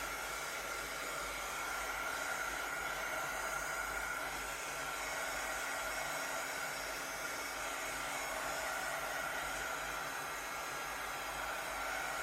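A hair dryer blows steadily and close by, drying something off with one continuous, even whoosh that lasts the whole stretch without pauses or voices.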